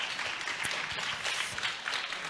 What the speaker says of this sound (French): On peut les applaudir aussi